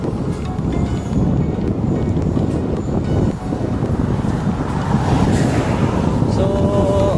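Steady, loud wind buffets the microphone while cycling, a continuous low rumbling roar with no talk.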